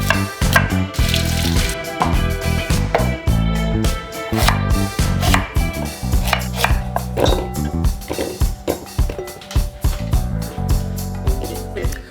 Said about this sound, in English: We're gonna go ahead and chop the tops off, give the bottoms a little snip